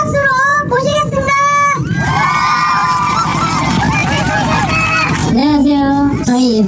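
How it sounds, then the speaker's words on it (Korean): A crowd at a Korean motorcycle riding club gathering greets its leader with loud cheering, whoops and shouting over scattered clapping, a close, boisterous burst with excited voices throughout. "우리 대장님 큰 박수로 모시겠습니다"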